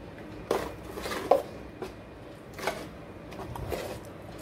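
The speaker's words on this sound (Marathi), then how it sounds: "हे आता मस्त मिक्स करायचे।" Rava dosa batter with onion, tomato and salt being stirred in a bowl, a few scattered clinks and scrapes of a spoon against the dish between quieter stretches, close and alone.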